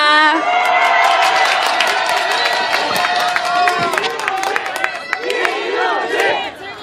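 A large crowd at an outdoor rally cheering and clapping, dense applause with shouts rising throughout, loud and sustained before tapering slightly.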